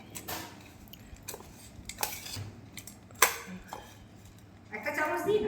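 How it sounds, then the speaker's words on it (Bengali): Spoons stir ghoti gorom in a pot, giving a few scattered metallic clinks and scrapes at low level, with a brief brighter clatter near the end. "একটা চামচ দিই না, দুটো দিয়ে নাড়লে ভালো হবে"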